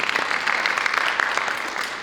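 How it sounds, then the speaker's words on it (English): Steady audience applause at a talk on curating contemporary art, a dense, even wash of many hands clapping at moderate loudness, with no voices over it. "and that applause is relative to this wonderful exhibit"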